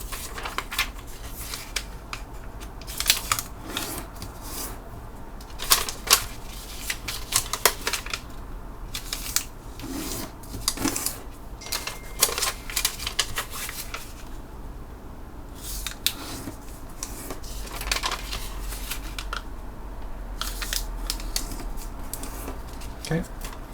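Paper is folded and creased into an origami square base for a Kawahata elephant, giving close crackling and sharp crinkling taps in irregular bursts while a person talks throughout.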